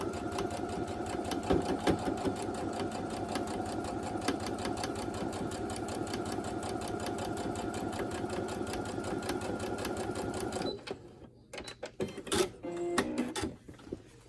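A sewing machine sews the nested seams of a disappearing four patch quilt block at a steady, even whirring pace for about ten seconds, then stops, leaving a few scattered clicks and handling noises.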